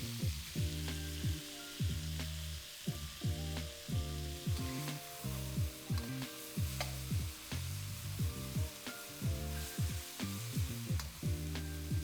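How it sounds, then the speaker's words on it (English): Beef steak fries in very hot oil in a wok, a close, steady sizzle broken by repeated scraping and stirring strokes as the pieces are moved around so they don't stick. "Once that oil's really hot, add the steak and then fry for about 2 to 3 minutes"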